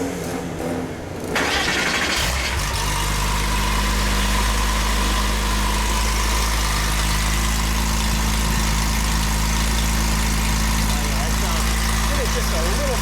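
1989 Porsche 911 Carrera Safari engine cranks after a brief quiet moment, fires, and settles into a loud, steady, close idle with a deep rasping rumble. Voices can be heard over it.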